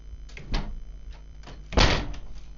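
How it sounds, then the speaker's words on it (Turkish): A door in the video game Sharwa shuts with a soft thud, followed by a louder, booming slam and a muffled rumbling tail, against a low steady game hum. "Kapıyı kapatma lan."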